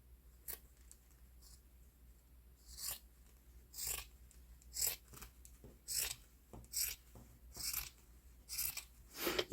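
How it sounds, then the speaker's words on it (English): Scissors snip through paper around a Sharpie-drawn line: a series of short, crisp rasping cuts, close and fairly quiet, coming in a loose steady rhythm with brief pauses between strokes and no talking. "I'm going to cut outside of the line"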